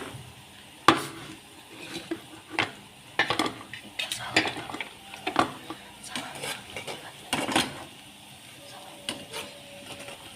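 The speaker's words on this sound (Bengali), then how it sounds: "বেরেস্তাগুলো আমি তুলে নিচ্ছি।" Fried onions (beresta) clink against a metal pan and bowl as they are lifted out for a Chittagong kala bhuna, with scattered close scraping and tapping strikes over a faint sizzle, no talk.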